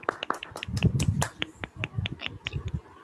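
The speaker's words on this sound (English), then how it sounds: "Can we have a huge round of applause for Dr. Shraddha Kulkarni before we start with the seminar?" A small webinar audience claps for Dr. Shraddha Kulkarni, a few hands giving sparse, separate claps in an uneven rhythm for about three seconds, close and fairly quiet, with no talking over them.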